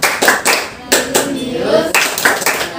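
A classroom group performing a rhythmic clapping chant, bursts of hand claps in patterned groups with voices chanting along between them, close and loud.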